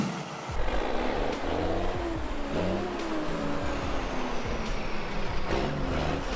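A Valmet 860.3 forestry forwarder loaded with logs drives uphill, its engine droning loud and steady with shifting low tones as it labours up the slope, continuous throughout.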